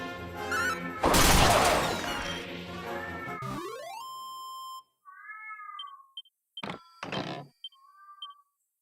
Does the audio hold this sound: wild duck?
no